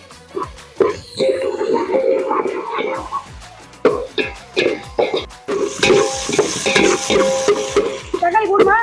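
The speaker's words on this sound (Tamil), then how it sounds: "வெங்காயம் நல்லா வதங்கணும்." Onions frying in oil in a home kitchen while being stirred, with repeated scraping strokes of a spoon against the pan over a steady sizzle, close and moderately loud, while a voice talks intermittently.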